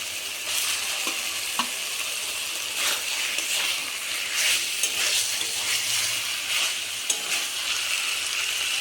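Cauliflower florets fry and get stirred in a thick, oil-releasing spice paste for a Bengali roast: a steady, close sizzle runs throughout, broken by scraping stirs and soft clinks of a spoon against the pan.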